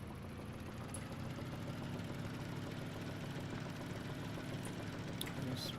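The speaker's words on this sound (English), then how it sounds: "that engine don't sound too good. It sounds like it's about to throw a rod" A rough, uneven motorcycle engine idles steadily in the video game Deadside, with a continuous low rumble and faint knocking throughout and no talking.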